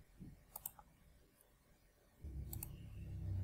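A computer mouse clicks on a Windows 10 screen, with a few quick, sharp clicks near the start and another crisp pair later, against a low background rumble that grows louder toward the end.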